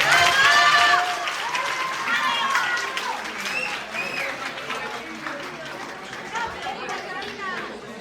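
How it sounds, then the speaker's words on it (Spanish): Audience applause and crowd chatter at a secondary school graduation ceremony, loud at the start, then fading into a murmur of voices and scattered clapping. "Fuerte aplauso para ellos, por favor"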